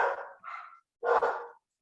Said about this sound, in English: my dogs are barking right now.